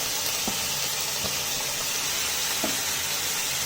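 Chopped capsicum and tomato hiss and sizzle steadily in hot oil with golden-brown onions for street-style pav bhaji, a loud continuous frying crackle with a few soft stirring knocks.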